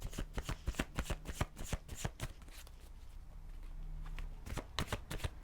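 Brian and Wendy Froud oracle cards being shuffled close up, a rapid run of crisp papery riffles and flicks, pausing briefly in the middle before the quick slapping shuffles resume.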